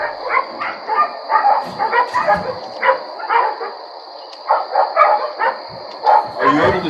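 Dogs bark repeatedly in bursts outdoors at night near a home's deck, the yaps and woofs coming in irregular clusters at moderate distance over a steady high insect-like drone.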